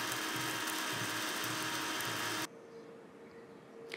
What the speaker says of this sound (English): So I'll just blend this in the blender.